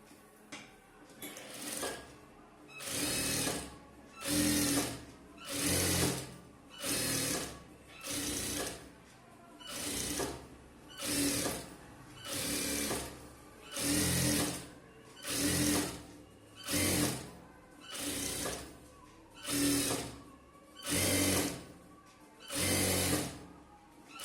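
A tailor's sewing machine stitches a chudithar top in a long run of regular mechanical bursts, each rattling pulse of about a second followed by a short pause, close and steady throughout.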